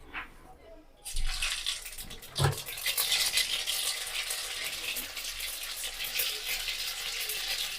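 Mustard seeds hit hot oil for a Kathiyawadi tempering and burst into a loud, dense crackling sizzle after a second of quiet. One sharp pop stands out, then the frying continues steadily to the end.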